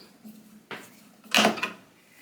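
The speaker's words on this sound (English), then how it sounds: "there's just a little tab here to push to pull the drawer out" Detergent drawer of an LG washing machine pulled out, a quiet plastic click followed by a louder sliding clatter and a brief rattle, close by and without talking.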